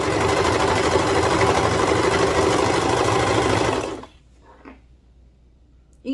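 A serger sewing machine stitches knit fabric with a fast, steady mechanical whir for about four seconds before stopping, followed by faint fabric handling.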